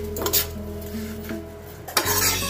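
Dalia, moong dal and arhar dal dry-roast in a pressure cooker pot without oil, with close scraping and stirring clatter over a faint crackle.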